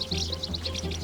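Sparrows in a busy Chinese city chirp in quick, repeated high twitters, faint and steady over a low constant urban hum.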